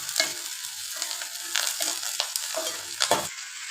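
Chopped onion and curry leaves sauté in a hot pan, crackling and sizzling up close with quick spatula stirs and scrapes in a short burst.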